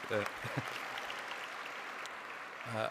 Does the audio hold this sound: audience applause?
yes